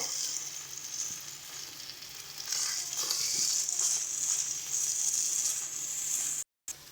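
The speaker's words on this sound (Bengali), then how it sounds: "এটাই কিন্তু বেশ কিছুক্ষণ এরকমভাবে একটু কষাতে হবে ভালো করে, তাহলে মাছের ডিমের গন্ধটা কেটে যাবে।" Katla fish roe sautés in a pan with a steady, moderately quiet sizzle and occasional stirring scrapes, continuing unbroken before a brief cut near the end.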